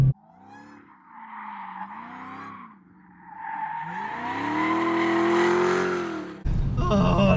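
A Dodge Demon's tires squeal in rising and falling skids over a revving V8, building to a long loud screech before a sudden cut to a louder roar.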